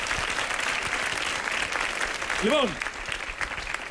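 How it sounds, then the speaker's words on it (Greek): Studio audience applause at a Greek improv comedy show, a broad steady wash of clapping filling the clip with a host's voice briefly speaking over it. "Ένα χειροκρότημα, ευχαριστούμε."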